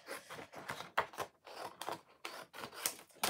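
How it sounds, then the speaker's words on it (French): Scissors cut through a round paper card in a quick series of close, crisp snips, about a dozen separate cuts in an uneven rhythm, with no talking. "Je vais couper."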